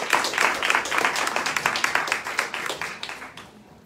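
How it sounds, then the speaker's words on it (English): Audience applauding a guest speaker at a stuttering awareness podcast launch party, a dense burst of clapping from a small crowd, close and lively, tapering off toward the end. "Everyone give a round of applause to Bailey."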